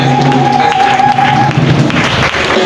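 A church congregation applauding during a worship service, loud close clapping and crowd noise filling the room, with a sustained tone and murmuring voices underneath.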